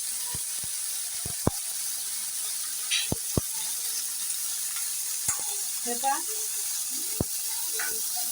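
Dill greens sauté in hot oil with a soft continuous sizzle, broken by sharp clicks and scrapes of stirring against the pan, close and moderately quiet.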